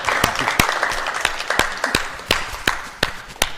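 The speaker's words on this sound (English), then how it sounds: "Let's give him one more round of applause." A small audience gives an evening performer another round of applause, a steady patter of many hands with sharp individual claps standing out, moderately close and without talk.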